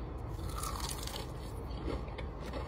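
Someone bites into and chews blueberry crystal candy close to the mic, a dense, continuous crunching and grinding with no pauses.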